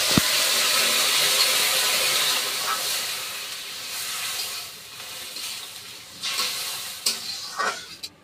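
Water poured into a hot pan of fried mung dal makes a sharp burst of loud sizzling and hissing steam that slowly settles into a softer bubbling simmer, with a few stirring scrapes near the end.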